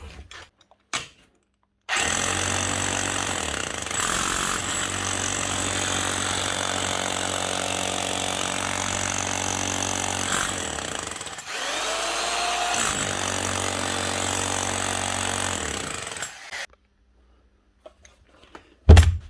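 An old Hitachi DH 38 YE demolition hammer with a chisel fitted runs steadily and loudly for about fourteen seconds, with a brief dip midway, starting and stopping sharply with quiet before and after.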